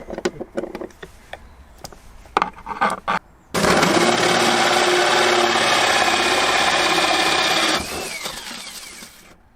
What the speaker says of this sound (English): Alright, so we've drilled all the holes.